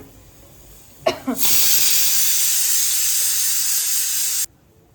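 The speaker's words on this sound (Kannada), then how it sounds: "ಸೊ ಇಲ್ಲಿ ಕುಕ್ಕರ್ ಸೀಟಿ ಆಗ್ಲತ್ತಾವ" A pressure cooker on a home kitchen stove lets off one loud, sustained steam whistle and hiss lasting about three seconds, then cuts off abruptly into quiet, with no talking.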